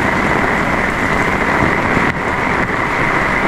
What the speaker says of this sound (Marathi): तर इथे आल्यावर आता जोरदार पाऊस सुरू झाला आहे.